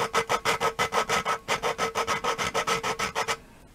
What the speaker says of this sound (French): Une fois qu'on entend presque plus gratter, on fait un quart de tour.